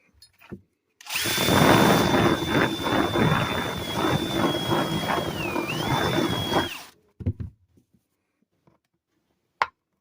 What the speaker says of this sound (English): keep doing it. Until your nut fits through.